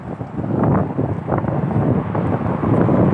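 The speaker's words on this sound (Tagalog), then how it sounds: "Hangin." Steady wind roaring and buffeting outdoors in the UK, a continuous broad rumble with gusty swells and no voices.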